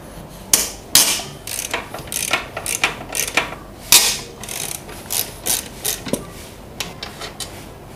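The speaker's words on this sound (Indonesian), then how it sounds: "pakai ratchet oh mod kita buka bautnya ada dua" Ratchet wrench with a 14 socket loosening the two brake bolts on a motorcycle, giving a run of sharp, close clicking bursts in an uneven rhythm with short pauses, no talking.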